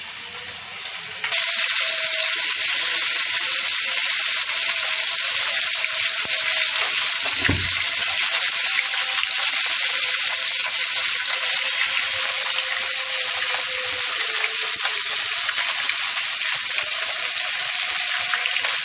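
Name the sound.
rohu fish frying in oil in a wok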